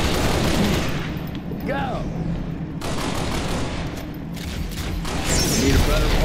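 Player's weapon in a video game firing loud, sustained bursts of gunfire with mechanical clatter, alongside a short spoken command.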